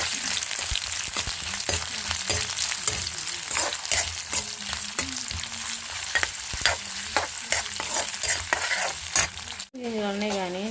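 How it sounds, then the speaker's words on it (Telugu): Onions sizzle and fry steadily in a pan, loud and close, while a utensil stirs and scrapes them in repeated strokes. A brief tonal chime sounds near the end, with no voices. "ఆనియన్స్ కూడా వేసుకొని ఫ్రై చేసేసుకున్నాం."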